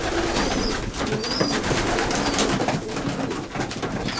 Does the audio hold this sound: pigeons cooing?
yes